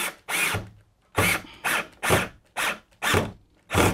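A power drill whirs in eight short bursts, each a second or less, with brief pauses between, as a screw is driven into wood close by in a camper kitchen drawer cabinet.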